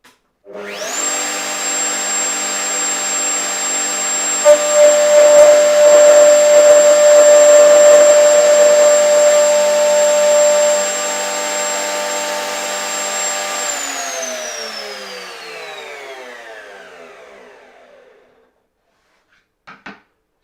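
Gifkins dovetail jig routing through timber with dust extraction running, a loud steady whine and roar that holds for many seconds before spinning down and fading out, alone.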